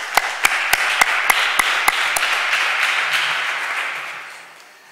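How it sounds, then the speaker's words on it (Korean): Church congregation at a Sunday service giving congratulatory applause, a burst of sharp individual claps over a steady wash of clapping that gradually fades out. "우리 축하 박수 한번 보내드릴까요?"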